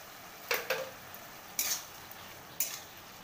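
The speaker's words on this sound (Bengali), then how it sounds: "আবারও খুব ভালো করে নাড়াচাড়া করে নেব।" Taro leaf curry with added sugar being stirred in a pan, giving four or five distinct scraping strokes of a spoon against the pan, spaced about a second apart over a soft low sizzle.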